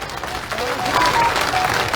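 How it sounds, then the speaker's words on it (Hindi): A crowd at a political rally in Gwalior claps steadily, a dense, continuous wash of applause lasting throughout, with faint voices mixed in. "अरे अच्छे से मिलाओ ताली महिलाओं के लिए।"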